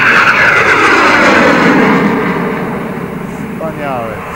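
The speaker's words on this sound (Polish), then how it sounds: "Znowu nadlatuje, tak jakby mnie chciał skosić z tego lotniska." Propeller airplane passing low over an airfield at an aeroclub anniversary event, a loud, broad engine roar that fades slowly as it moves away, with people talking over it.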